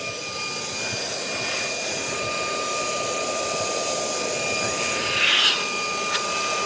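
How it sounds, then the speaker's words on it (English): A handheld car vacuum-blower blows dust out, a steady close whooshing air rush with a high motor whine, briefly gusting louder near the end, with no talk over it. "Push the button, blowing everything out."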